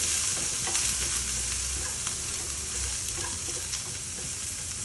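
Chopped multicolored capsicum sizzles in a hot pan with garlic and onion, a steady frying hiss broken by occasional scrapes and stirs of a spoon, close and continuous.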